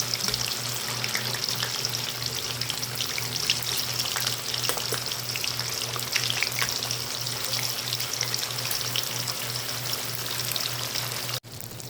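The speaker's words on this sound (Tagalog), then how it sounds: "magprito po muna tayo ng tokwa" Tofu sizzling and frying steadily in a pan of hot oil, a continuous close crackle with no talking, ending in a brief clatter near the close.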